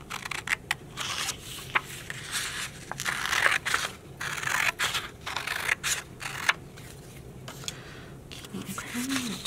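Scissors cutting paper into neck tabs for a preschool cape craft make repeated crisp snips and rustles throughout, close by, with talk partly under them.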